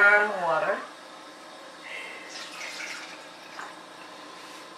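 Warm water runs from a kitchen tap for bun dough as a steady, faint hiss after a brief voice at the start.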